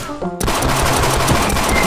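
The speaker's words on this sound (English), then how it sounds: "There's so many gunshots." Rapid bursts of gunfire in the game Sven Co-op erupt after a brief quiet start, loud and continuous with dense automatic shots.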